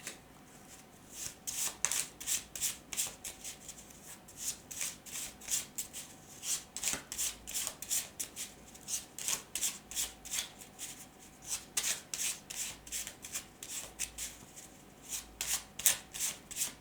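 Tarot cards from a Feelings and Messages deck are handled and shuffled. The result is a long run of crisp, papery riffling bursts at a steady, close rhythm, with no talking.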